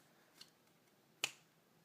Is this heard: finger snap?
yes